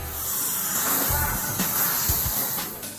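Breaded sweet potato patties dipped in egg and coated in breadcrumbs fry in hot oil, giving a loud, steady sizzling hiss with occasional soft pops and bubbling, heard up close without talk.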